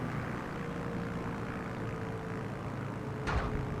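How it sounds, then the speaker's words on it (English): A propeller plane comes in to land in a flight game on a Norway bush trip, its engine droning steadily at moderate volume, with a brief thump near the end as the wheels touch down. "Let's see how this plane lands."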